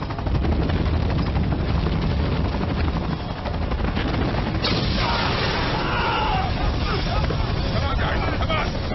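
A helicopter roars nearby in a steady, loud rotor and engine wash that fills the whole stretch, with a burst of clattering and shouting voices partway through.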